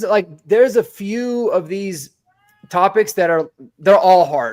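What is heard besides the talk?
pet cat meowing in the background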